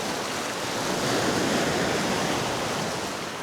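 Big ocean waves breaking at the shore, a loud continuous wash of surf that swells and eases slightly across a few seconds, with wind noise on the microphone and no voices.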